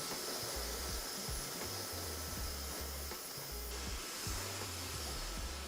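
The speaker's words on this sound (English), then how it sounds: "I'm going low airflow, high heat with the blow dryer." A blow dryer runs steadily on low airflow and high heat, a continuous loud whooshing hum with faint scraping and brushing noises underneath, drying hair.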